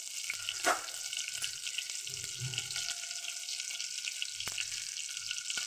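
Cumin seeds sizzle in hot oil for rajma, a steady bright crackle running throughout with a few soft clinks and stirring knocks, close and fairly quiet.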